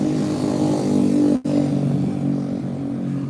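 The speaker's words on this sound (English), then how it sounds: "That was a really, really loud motor scooter." A very loud little motor scooter's engine drones near and steady, with a sudden brief dropout partway through, then continues, slowly fading as it moves past; no talking.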